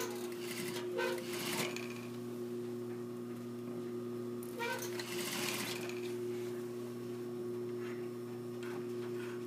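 A sewing machine stitches a seam near a corner, trying to avoid the stay stitch. It gives a steady mechanical hum with two louder bursts of rapid stitching, close and alone.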